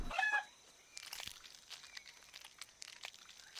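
Chickens clucking in the survival video game CryoFall, a short burst of bright clucks at the start followed by scattered, fainter game sounds and soft ambient noise.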